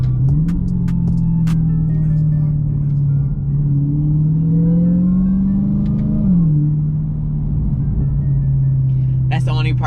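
A 2020 car fitted with a Legmaker intake and supercharger drones loudly from inside the cabin. A steady engine note swells, then settles, with a faint whine riding above it and a few clicks.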